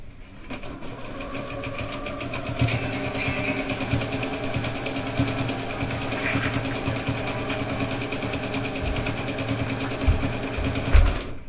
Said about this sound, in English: I'm sewing through several layers